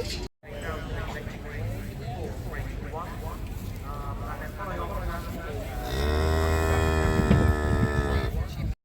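Cattle at the Dunster Show, an agricultural show, lowing in a long, droning moo that rises into a louder, strained bellow, close by over background chatter and hum.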